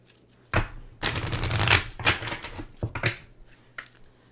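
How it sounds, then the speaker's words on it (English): Oracle cards are shuffled in a few quick riffling bursts and soft slaps, close and fairly quiet, with short pauses between. "So I went ahead and shuffled all of the oracle cards"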